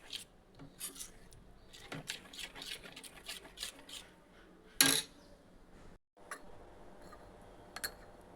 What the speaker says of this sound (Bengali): আর একটু কালো জিরে এবার এর সঙ্গে খুব ভালো করে মিশিয়ে নেব